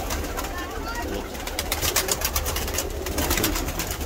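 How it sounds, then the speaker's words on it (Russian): Pigeons coo softly in a low, throaty rumble amid a busy outdoor setting with children playing football nearby, under a steady wash of background noise and occasional human voices. "Не пугайте голубей!"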